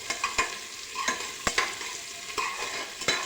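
Onion sautéing in a pan for Maharashtrian masale bhat, a soft continuous sizzle broken by sharp spatula scrapes and taps at irregular intervals, close and fairly quiet.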